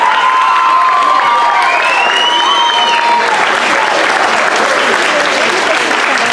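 An audience breaks into loud, continuous applause with cheering and some voices over the top, the clapping staying dense and even throughout.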